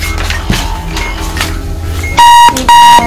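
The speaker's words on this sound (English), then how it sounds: "Turn the alarm off." Alarm clock ringing in the video game Keep Talking and Nobody Explodes: two loud, sustained electronic beeping bursts sound near the end, cutting over busy game background noise.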